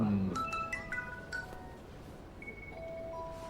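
A telephone rings with a short melodic ringtone of bright chiming tones that repeat in a stepped pattern, faint and thin, over a quiet room with soft voices nearby.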